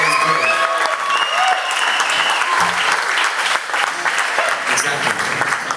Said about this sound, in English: Can we have a massive round of applause for Stu Larson